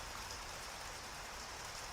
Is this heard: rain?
yes